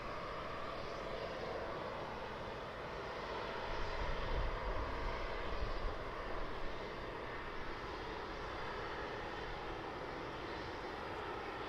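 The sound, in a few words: Emirates Boeing 777 airliner flying a left-hand loop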